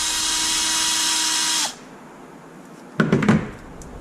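A power drill whines steadily while backing out small screws from the receiver box of a Super Typhon build, then cuts off, followed by a brief metallic clatter of parts being handled.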